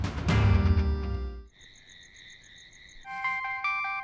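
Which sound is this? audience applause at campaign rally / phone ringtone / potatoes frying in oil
phone ringtone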